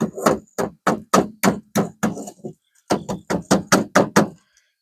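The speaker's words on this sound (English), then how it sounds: "I'm just gonna gently tap this" Metal tool tapping lodged creosote off the thin metal of an outdoor wood boiler, a close, loud series of about fifteen evenly spaced knocks in two runs separated by a brief pause.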